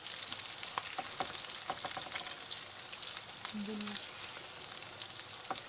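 Red kidney bean kebabs fry in a pan with a steady, close crackling sizzle and scattered pops and clicks, holding level throughout with no talking.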